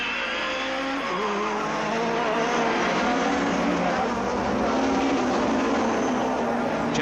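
British Touring Car Championship cars from 1993 race through a chicane, engines roaring continuously and loud with shifting pitch as they brake and accelerate, a brief tyre squeal mixed in, no talk.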